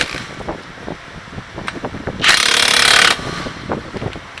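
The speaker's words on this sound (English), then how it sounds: "So then you can tighten the last two bolts." A ratchet tightens wheel bearing bolts on a Toyota RAV4 with a bolt-on bearing, close-up rapid clicking in short bursts, interrupted by a loud hiss-like rush midway before the clicks resume.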